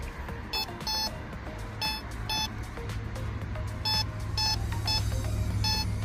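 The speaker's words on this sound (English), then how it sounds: "the metal detector is getting closer and closer" A metal detector sweeps the ground after a heavy downpour, sending out repeated short electronic beeps in irregular bursts over steady outdoor background noise.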